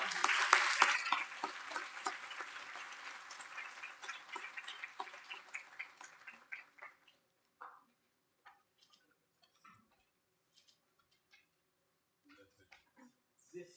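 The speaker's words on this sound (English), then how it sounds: "Big round of applause." Audience applause at a lecture series at IIT Hyderabad: a burst of clapping from a crowd that is loudest at the start, then thins over several seconds into scattered individual claps, with people talking nearby.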